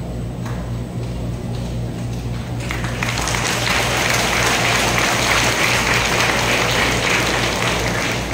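Applause from a crowd swells in suddenly after a quieter stretch, then holds as a dense, sustained clapping roar.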